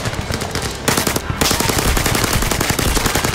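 Rapid automatic gunfire in the VR shooter ZeroCaliber VR, loud close bursts of machine-gun shots with a brief break before firing resumes.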